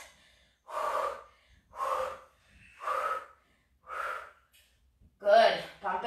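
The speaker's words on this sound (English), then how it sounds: "Strong breathing, controlling with the dumbbells." Strong, forceful breaths during a dumbbell workout at a boot camp class: four evenly spaced exhalations about a second apart, close and loud, followed by a sharper gasping breath at the end.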